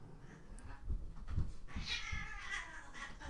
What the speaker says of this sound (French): Alors qu'on a un fight de chat à côté.